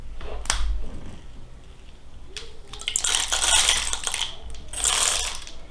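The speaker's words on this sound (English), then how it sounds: "you're going to rotate the hull counterclockwise in a complete circle to cut the top off of this shell" A Spin-N-Trim tool cuts the top off a shotgun shell hull as it is turned, giving close, scratchy rasping and crunching bursts with a few sharp clicks.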